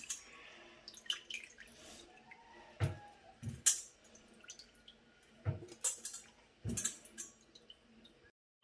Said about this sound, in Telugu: దీంట్లో కొంచెం ఇప్పుడు పసుపు వేసి వాష్ చేసుకుందాం